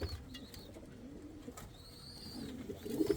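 Indian fantail pigeons cooing nearby, soft repeated rolling coos rising and falling in a slow rhythm, with a few faint chirps around them and a louder coo at the end.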